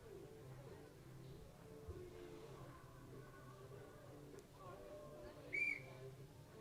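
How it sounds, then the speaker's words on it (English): A dressage judge's whistle signals the start of a test at an outdoor arena, one short, faint high blast near the end over quiet background murmur. "That is her whistle to sound the start of her test."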